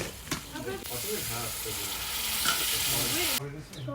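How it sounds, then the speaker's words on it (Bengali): Oil frying in a pot over a wood-fired stove, a loud continuous sizzle with occasional stirring scrapes, close up, ending abruptly; a voice speaks faintly underneath. "একটুখানি এক দুই মিনিট ভাইজে মশলাগুলা দিয়ে দিব"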